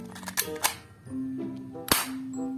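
A toy pistol fires several sharp snapping shots with electronic tones humming between them, loud and close.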